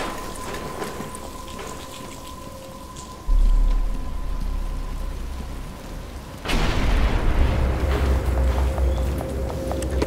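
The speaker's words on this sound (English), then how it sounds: "But it's starting to rain." Steady rain hisses throughout a Batman: Arkham Asylum game scene, with a low rumbling swell midway and the downpour growing louder and denser in the second half, no talking.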